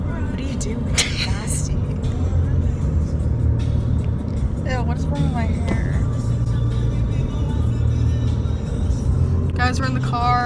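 Steady low rumble of a car driving, heard from inside the cabin on a Costa Rica trip, running continuously throughout while people talk over it.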